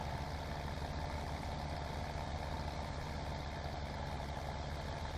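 Tractor engine in Farming Simulator 17, out on a farm field, with a steady low rumble that holds at a constant level the whole time and no voices over it.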